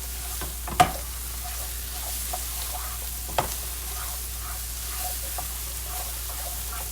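Salisbury steak stirred in a sizzling pan, a steady low frying hiss running throughout with a couple of sharp utensil clicks near the start and middle.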